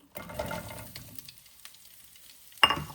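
Onions dropped into a pan with very little oil, a close burst of sizzling and stirring that fades down, then a sharp new sizzle near the end.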